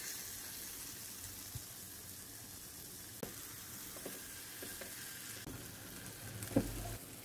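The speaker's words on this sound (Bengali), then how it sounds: "এখন চিকেনগুলো ভাজার জন্য তাওয়ায় দিয়ে দিলাম" Chicken pieces for barbecue fry on a hot tawa, giving a faint, steady sizzle with a few light clicks and a soft knock near the end.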